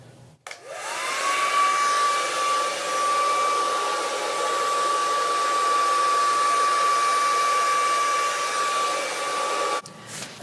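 Hair dryer on a warm, high setting blow-drying kinky natural hair, a loud steady whine that spins up at the start, holds a constant tone for about nine seconds, then cuts off.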